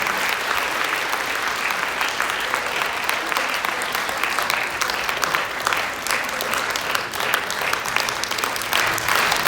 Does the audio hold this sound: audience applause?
yes